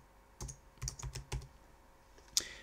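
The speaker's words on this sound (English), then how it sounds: "you want to type in football" Computer keyboard keys tapped in a few short, irregular bursts of clicks, close and fairly crisp, with a louder single click near the end and no talking.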